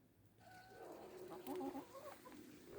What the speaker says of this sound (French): je les donne à manger aux poules